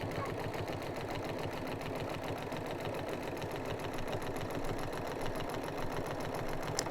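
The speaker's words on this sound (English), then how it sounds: "I'm going to just sew a little bit more." A sewing machine runs steadily while stitching binding onto a quilt, its needle motor chattering in a fast, even rhythm throughout, close and fairly loud with no speech.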